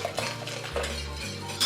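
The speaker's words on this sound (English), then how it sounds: "We're going to slowly incorporate the warmed through milk and cream into the whisked up egg yolks." Metal whisk clinking against a bowl as warm milk and cream are gradually beaten into egg yolks for eggnog, a short run of quick scraping taps, close and fairly clear with no talking.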